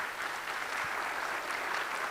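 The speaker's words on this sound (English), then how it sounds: "if you'll give them a round of applause" An audience claps in a steady, even wash of applause, moderately distant and sustained for the whole moment, with no voices over it.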